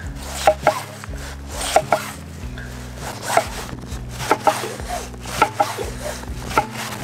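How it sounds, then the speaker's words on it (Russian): A knife chops through boiled goat meat on a wooden board in quick irregular strokes, each cut landing with a dull thud close by. "Нужно все красиво нарезать. Начнем с козы."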